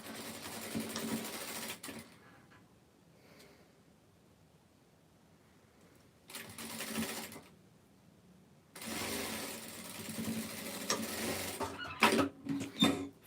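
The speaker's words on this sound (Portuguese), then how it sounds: "vamos passar a costura aqui na lateral" Sewing machine running in bursts as it stitches a side seam on an aviator-style garment, joining back and front pieces; three separate runs of steady whirring with quiet pauses between, close and alone.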